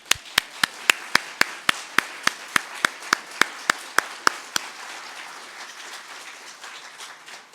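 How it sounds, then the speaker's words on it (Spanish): Rhythmic unison clapping at a Catholic Mass, about seventeen sharp, evenly spaced claps that stop about two-thirds of the way through, leaving a quiet, faintly reverberant room. "Un aplauso a Jesús."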